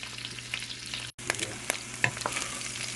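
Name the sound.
smoked sausages browning in a pan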